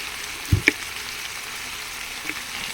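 Masala for sea fish sautéing in mustard oil in a pan, giving a faint steady sizzle with two close utensil knocks early on.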